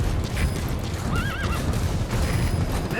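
A horse whinnies in Metal Gear Solid V: The Phantom Pain, a rising and falling neigh over steady clip-clop hooves and a dense game soundscape.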